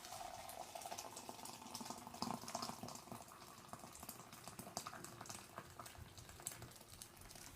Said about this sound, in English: pour in the hot water